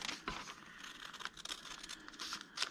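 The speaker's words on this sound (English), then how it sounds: "I'm going to just cut along" Scissors cut along a book page being made into a paper bag, giving faint crisp snips and papery rustles close by in a quiet room.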